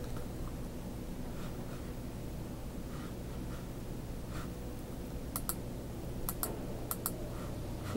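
Computer keyboard keys clicking in short sparse bursts, a few sharp taps over a steady low hum, fairly faint and close.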